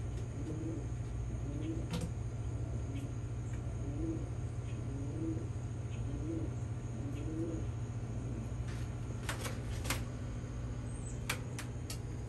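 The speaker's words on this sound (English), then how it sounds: "There's the birds." Pigeons in a loft with a metal floor coo softly in a repeated rhythm over a steady low hum, with a few sharp taps and clicks later on.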